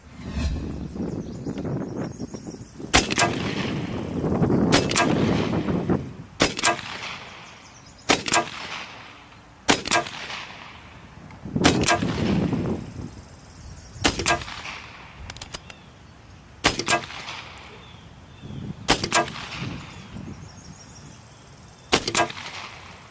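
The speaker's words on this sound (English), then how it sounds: "let me go ahead and set my target out to 50 yards and try out those Yunjin pellets." An AirForce Escape air rifle fires pellets at a 50-yard target, giving about nine sharp, loud cracks spaced a couple of seconds apart. Faint handling and cocking noises fill the gaps between shots.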